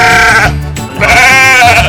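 A sheep bleats very loudly and close up, two long, quavering calls separated by a brief pause.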